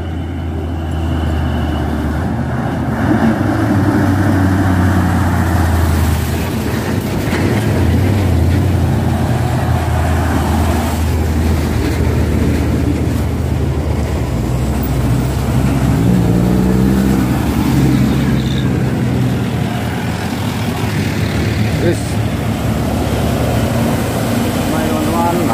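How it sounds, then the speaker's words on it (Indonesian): Steady, heavy road rumble of a convoy of trucks rolling past one after another, continuous and loud, with voices talking over the traffic. "Ya, banyak truk berkompoi, teman-teman."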